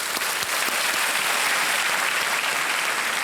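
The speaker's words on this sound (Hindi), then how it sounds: "तालियों के साथ इनका स्वागत किया जाए।" Sustained, dense applause from a game-show studio audience, loud and steady throughout with no voices breaking through.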